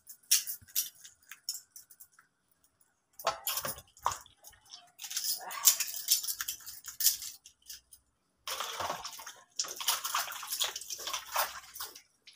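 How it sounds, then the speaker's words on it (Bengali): Water is poured in bursts while hair is washed outdoors in a village, splashing and spattering in several separate pours with short quiet gaps between them, and no talking. "আজকে মাথাটা ধুলিয়ে নি"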